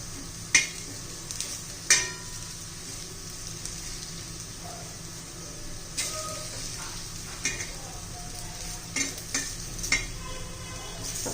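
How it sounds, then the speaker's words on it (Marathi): Raw banana pieces frying in a pan with spices, a soft sizzle beneath intermittent scrapes and clinks of a spoon stirring against the pan. "सगळे पीस आहे ना मी असेच भाजून घेते फ्राय करून घेते चांगले"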